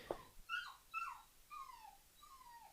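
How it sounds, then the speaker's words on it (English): A dog whines and yelps in the background, with four or five rising, drawn-out cries spaced about half a second apart after a short sharp yip. The cries are faint and come through a quiet room. "I'm sorry for the screaming dog in the background."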